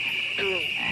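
The Budweiser frogs from a beer advert let out a single short, throaty croak midway through a brief moment, over a steady background hum.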